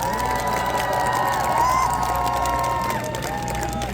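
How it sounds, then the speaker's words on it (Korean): Crowd cheering and applauding at an outdoor political campaign rally in Hongdae, Seoul, a dense continuous roar of voices and claps with whoops rising over it, loud and sustained throughout. "다시 한번 큰 박수 부탁드립니다"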